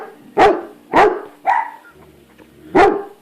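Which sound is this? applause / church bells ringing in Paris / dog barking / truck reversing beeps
dog barking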